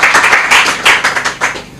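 Studio audience applauding on a Congolese TV arts talk show, a dense, steady wash of many hands clapping at close range, continuous throughout with no speech.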